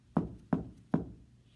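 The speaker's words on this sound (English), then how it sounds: "a knock at the door." Three evenly spaced knocks of a door knock, performed as a sound effect during a told story at a library music and storytelling event, dull and soft with short decays and no talk over them.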